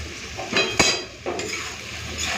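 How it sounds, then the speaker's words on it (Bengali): Chopped onions fry in a pan with salt and a bay leaf, giving a soft sizzle broken by a few sharp clinks and stirring scrapes of a utensil against the pan. "পেঁয়াজটা ভাজার সময় নুন দিয়ে দিচ্ছি আর দিয়ে দিচ্ছি তেজপাতা।"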